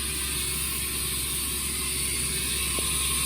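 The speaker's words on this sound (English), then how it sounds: "it's going to be relatively noisy because of the air pressure" Steady broadband hiss of compressed air from a Haas CNC tool changer halted partway through its cycle, loud and continuous throughout with a low hum underneath and no talking.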